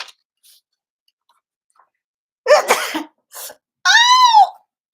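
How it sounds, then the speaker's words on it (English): A single sharp sneeze bursts out after a brief breathy intake, loud and close, then a tailing whimpering moan; otherwise near silence. "I think I'm gonna sneeze."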